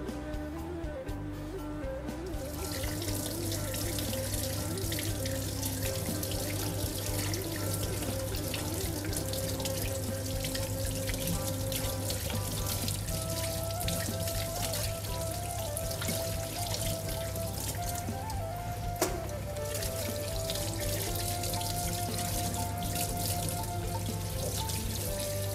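Mujair fish rinsed under a running kitchen tap, a steady continuous rush and splash of water into a sink filling the whole stretch at even loudness, with no talking.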